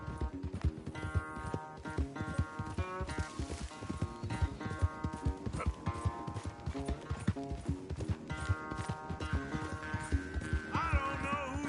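Rapid rhythmic hoofbeats of a galloping horse during a horse race in Red Dead Redemption drum steadily over a busy game soundtrack with music and effects.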